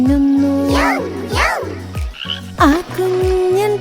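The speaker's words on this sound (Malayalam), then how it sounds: "ഒരു കുഞ്ഞൻ തവളയിതാ മരത്തടിയിലിരിക്കുന്നു." A cartoon frog croaks in a Malayalam nursery rhyme, with repeated rhythmic croaks set against a bouncy musical backing and a singing voice that rises and falls over them.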